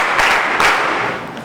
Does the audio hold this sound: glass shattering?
no